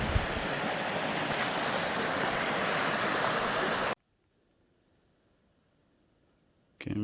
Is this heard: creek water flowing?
yes